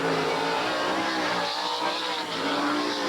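World of Outlaws sprint cars roar around the dirt track at Eagle Raceway in 1991, a loud, continuous engine howl running up on the ridge with no break.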